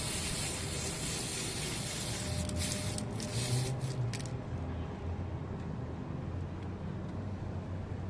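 Spray paint hisses steadily onto a Tamiya Mini 4WD Toyota Gazoo Racing TS050 hybrid body, a continuous broadband hiss with a short stronger burst midway, close and alone.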